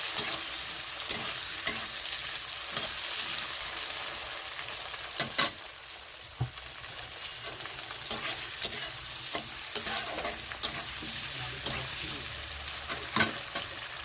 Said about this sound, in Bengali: দিয়ে দিচ্ছি চিংড়ি মাছ চিংড়ি মাছটা খুব বেশি ভাজবো না শক্ত হয়ে যায় বেশি ভাজলে